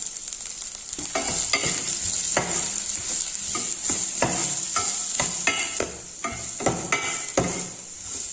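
Onions frying in hot oil with mustard seeds, curry leaves and green chillies for poori masala: a constant bright sizzle with rapid, repeated metal scrapes and taps of stirring in the pan, close and loud with no speech.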